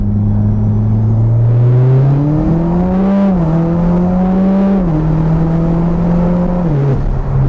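A Mitsubishi Evo X fitted with a new turbo pulls hard in second gear, its engine droning loud and close as the pitch climbs steadily, dips briefly at a shift or lift, then climbs again.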